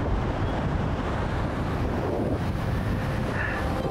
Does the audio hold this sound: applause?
no